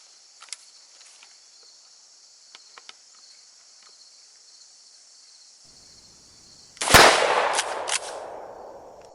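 A KelTec KSG 12-gauge shotgun fires one loud close blast at an outdoor 12.5-yard range, followed by a ringing decay, after a stretch of faint insect chirping in the background.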